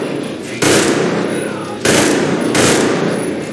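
Loud bursts of automatic gunfire in the Metro Exodus first-person shooter, three sharp volleys in quick succession, each rattling briefly and then dropping back to a lower din.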